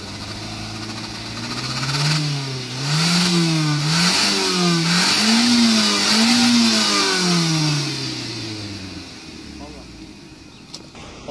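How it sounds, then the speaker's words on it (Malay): A Proton Persona's engine revs up and down repeatedly as the accelerator is pressed, rising and falling through several surges before settling toward idle, close and loud. "saya katakan injak minyak untuk kali kedua untuk buang karbon"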